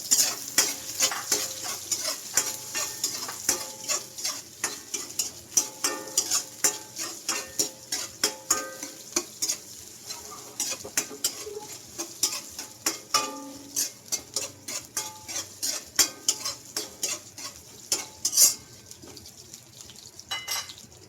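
Onion and ginger fry in a pan for a Filipino crab-in-coconut-milk dish, a steady close sizzle broken by frequent sharp scrapes and clinks of a utensil stirring against the pan, with no talk.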